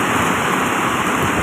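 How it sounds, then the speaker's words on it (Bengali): Heavy rain pours down during a storm over an open village market, a dense unbroken hiss and patter, loud and close, with no voices. "প্রচুর বাতাস হচ্ছে, বৃষ্টি, অসম্ভব বৃষ্টি হচ্ছে।"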